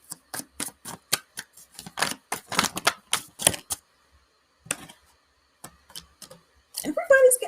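Tarot cards being shuffled during a live reading, quick crisp riffling and flicking bursts in an uneven rhythm, close and fairly loud, then a pause and a voice speaking at the end.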